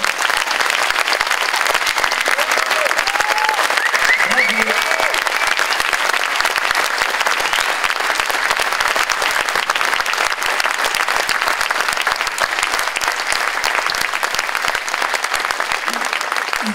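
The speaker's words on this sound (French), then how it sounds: "Vous pouvez les applaudir encore une fois." Sustained applause from a school audience of parents cheering their children, a dense, steady clapping that continues loud and unbroken throughout with a faint crowd murmur beneath.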